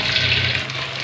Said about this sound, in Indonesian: Sekarang kita goreng ini dulu. Dan ini minyaknya udah panas.